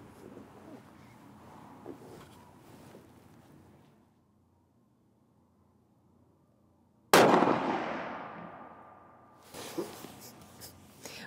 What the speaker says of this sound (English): Take a shot.